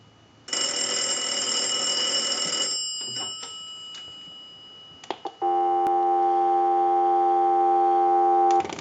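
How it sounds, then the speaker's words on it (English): A steady electronic tone with a buzzy timbre holds for a couple of seconds, followed by a few clicks and then a smooth continuous telephone dial tone. "I'll let it go one more time and we'll give you some dial tone."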